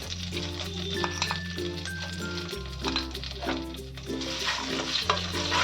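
A spoon stirs dhokla batter mixed with sugar in a bowl, giving soft, repeated scraping taps over steady tonal music throughout.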